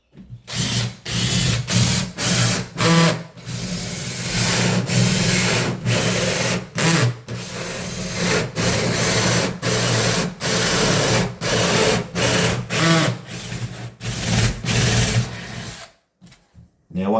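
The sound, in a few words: hole saw drilling through timber door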